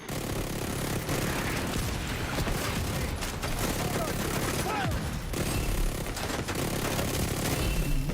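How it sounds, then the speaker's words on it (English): Mortar blasts and gunfire in the video game The Division, a continuous dense rumble of shots and booms running the whole stretch at moderate level with no break. "Hostile has full golden bullet. Mortars on this location."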